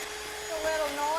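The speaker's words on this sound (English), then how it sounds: "And I'm going to get the mixer." An electric hand mixer whips egg whites with a pinch of salt for a chocolate mascarpone cheesecake, giving a steady whirring drone that rises in pitch partway through, with a faint voice underneath.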